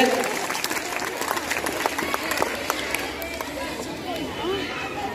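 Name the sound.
applause welcoming guest at school Independence Day event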